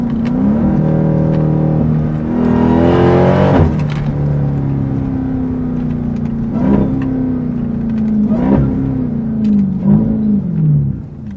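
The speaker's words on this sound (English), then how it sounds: "The exhaust was popping coming down that hill" A Dodge Durango Hellcat engine rumbles and revs with rising and falling pitch, with a few sharp pops and crackles from the exhaust between throttle changes, loud and close.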